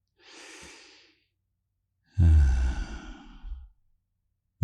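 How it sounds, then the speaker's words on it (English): A slow, audible inhale followed by a deep, heavy exhale, taken close to the microphone in a quiet room. "how about we just take a breath together?"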